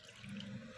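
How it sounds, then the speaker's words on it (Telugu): Water is poured into a bowl of ragi and jowar dosa batter, a brief, faint splashing trickle that stops abruptly, with no talking. "ఇప్పుడు ఇందులో కొద్దిగా వాటర్ పోసుకుంటూ కలుపుకుందాం"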